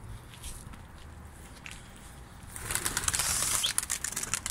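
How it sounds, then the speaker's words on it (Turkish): Pigeons released from a coop take flight in the evening, a burst of wing flapping that swells partway through after quieter shuffling, fairly close and faint. "Kuşlar hemen yükseldi zaten."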